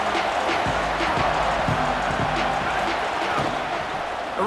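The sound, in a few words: stadium crowd noise at an American football game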